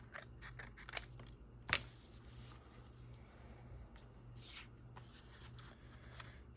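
Scissors trimming paper for a junk journal, making faint, close crisp snips and rustles over a low steady hum, with one sharper cut standing out among the quieter ones.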